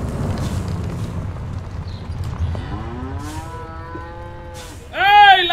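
Cows in a truck-driving video game low out in a long drawn moo over a rumbling background, followed by a sharper, louder moo close by at the end.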